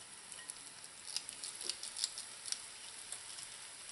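Soft, steady sizzling and crackling of flour pholourie dough balls frying in hot oil, with scattered light pops over a constant hiss.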